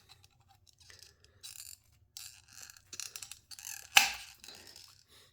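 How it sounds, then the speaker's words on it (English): Hand cutters snip roughly along the edges of a sheet-metal panel for a Toyota Starlet KP61 racecar, giving scattered short crunching cuts with one sharp louder snap near the end, close up and with no talking. "I'll take my cutters and I'll roughly cut the edges."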